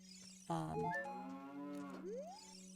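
A cow in the video game The Legend of Zelda: Ocarina of Time gives one long, loud, close moo that slides upward at the end, over a steady hum.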